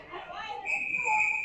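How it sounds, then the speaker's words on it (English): Referee's whistle at a 14U scholastic youth ice hockey game, a sustained shrill tone rising over rink noise and commentary, blown once and held for most of a second near the end. "Whistle is blown."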